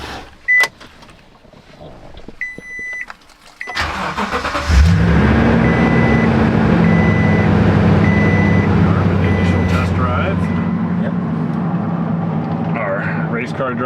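Car cruising at about 60 miles per hour on a main road, a steady loud engine and road drone settling in after a short quiet start with a few electronic beeps.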